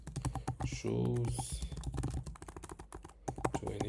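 Quick, irregular keyboard typing clatters throughout, close by, with a person speaking over the keystrokes.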